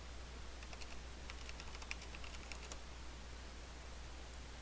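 Quiet keystrokes on a computer keyboard, a short irregular burst of light clicks over faint steady hum, fairly close and without talk.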